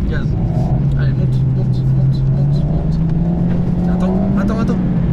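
An Alpine A110 S revs hard while drifting on an ice track, its engine note climbing steadily and loud throughout, close up, with a person speaking over it.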